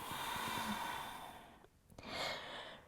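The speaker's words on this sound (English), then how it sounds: "Exhale out through the mouth." A slow, audible exhale through the mouth during a fertility yoga session, soft and close, with a second gentle breath following.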